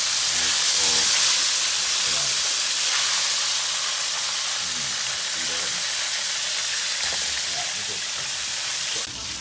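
Chicken tenders fry in hot oil with a loud, dense, continuous hiss and crackle up close, steady throughout, with faint voices murmuring beneath.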